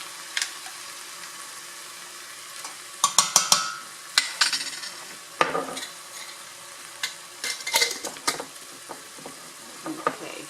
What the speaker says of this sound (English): so we're going to saute this sofrito until it's very aromatic.